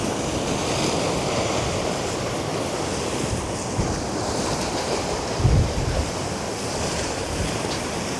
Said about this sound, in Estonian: mere peal on see laine ikka päris raju